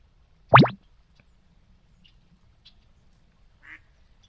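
A hen duck gives one loud, close quack during a duck hunt, with a few faint short calls trailing off afterward in an otherwise quiet marsh.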